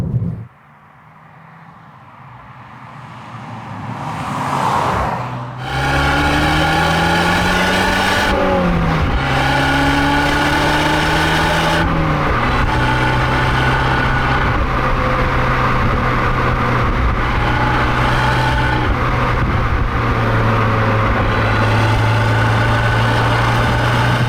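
A small 145-horsepower Abarth 595 engine idles quietly, then revs up sharply and holds a loud, steady drone with rising and falling pitch as it is blipped repeatedly. The engine is close and clear, with no talking.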